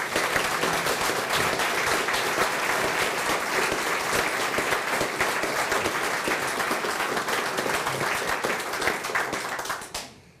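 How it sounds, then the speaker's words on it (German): A large audience in Grabs, St. Gallen, gives loud, continuous applause to welcome a Swiss federal councillor, dense clapping holding steady before cutting off abruptly near the end. "Mit einem riesigen Applaus heißen wir dich recht herzlich willkommen."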